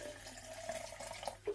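Filtered water being poured into a container of bentonite clay, a faint continuous trickle with small splashes and a brief gurgle near the end.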